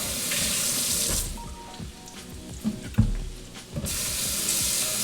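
Food with seeds is rinsed under a running kitchen tap while cooking a budget breakfast: a steady close splash of water that breaks off briefly in the middle with a few knocks, then resumes full flow.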